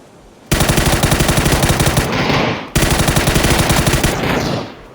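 Automatic gunfire in the PUBG video game, two long rapid bursts of loud, evenly spaced shots separated by a short gap, close and dominant with no talk.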